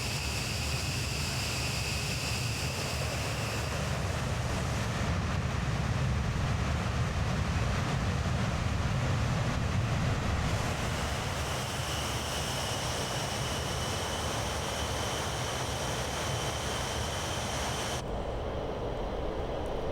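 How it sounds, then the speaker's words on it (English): Avro Vulcan jet bomber engines in Microsoft Flight Simulator at RAF Waddington, a loud continuous roar with broadband rumble and steady high whine that holds throughout, shifting slightly partway and near the end. "Let's hear those amazing sounds of the mighty Vulcan once again at RAF Waddington."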